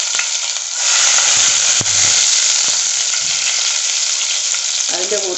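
Finely chopped garlic sizzling loudly in hot oil in a pan for roadside-style chicken fried rice, a steady close crackle and hiss throughout, with a brief stir near the end.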